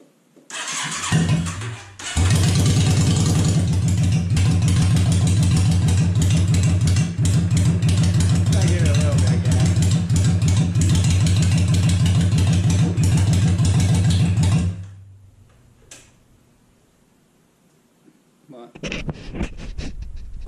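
A cold 2002 Yamaha V-Star 650 Classic motorcycle, being built as a bobber, cranks briefly and starts without choke. It idles loud and steady close by for about twelve seconds, then shuts off.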